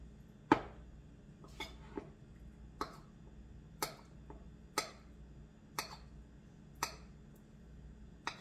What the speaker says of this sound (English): you're going to need a pastry blender or 2 knives, and we're going to cut a stick of butter